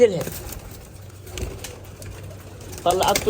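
Pigeons coo softly in low, murmuring calls, with some fluttering and a burst of louder bird noise near the end.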